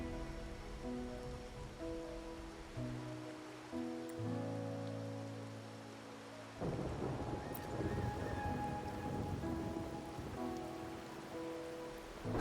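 Steady rain pours down with low rumbles of thunder in the game Wuthering Waves, a continuous wash of falling water that swells louder partway through, with no talking.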